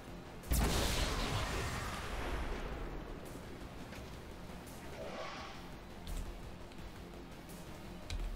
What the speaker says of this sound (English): Followed up by a double explosion over here, shredding, explosion of the car, more lost.